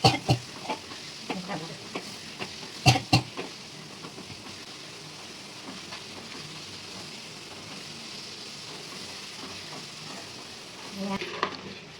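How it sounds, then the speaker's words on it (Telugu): Green chilies fry in oil with a constant, fairly quiet sizzle. A few clattering stirs come near the start and end, with no talking over it. "పచ్చిమిరపకాయలు ఇలా కలర్ వచ్చిందాక నూనెలు అయితే వేయించుకోవాలి."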